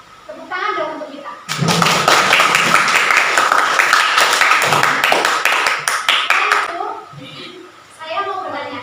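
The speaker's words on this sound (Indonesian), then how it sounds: "Tepuk tangan dong untuk kita." Classroom of students clapping together in a geography lesson, several seconds of loud, close, busy hand claps with a few sharper individual claps near the end, framed by a teacher talking before and after.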